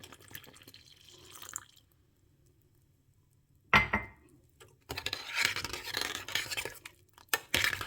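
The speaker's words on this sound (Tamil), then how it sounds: "இப்போ நம்ம கட்டி தேங்காய் பால் ஊற்றி கொடுத்துருவோம்" Coconut milk splashes and pours into a pan in a couple of bursts, with faint metallic clinks and quiet kitchen sounds between.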